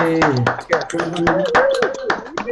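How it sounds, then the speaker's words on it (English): Online audience applause during a World Poetry Day event, with bursts of hand clapping over a video call amid cheering voices and chatter, fairly loud and close-miked. "give these people a round of applause from the UK for joining us today"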